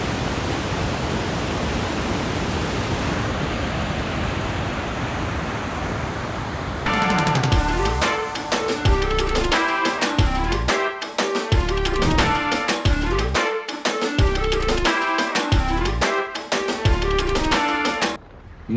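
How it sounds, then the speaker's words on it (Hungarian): The Panj river rushes through its valley on the Tajikistan–Afghanistan border as a loud, steady roar of broadband water noise. After about seven seconds, music takes over. "a Pencs folyó völgyében, a túloldal továbbra is Afganisztán, és mutatom a folyót,"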